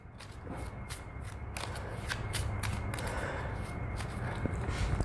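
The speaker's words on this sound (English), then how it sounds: "One last shuffle." A deck of game cards for a Marvel Champions solo playthrough gets a final shuffle: a run of quick papery riffles and snaps, close and fairly quiet, building in density over several seconds with no speech.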